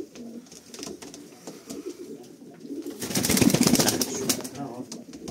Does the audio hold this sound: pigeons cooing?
yes